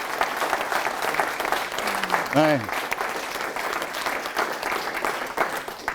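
Audience at an industry conference on additive manufacturing applauding the team, with steady dense clapping throughout and a brief voice heard over it.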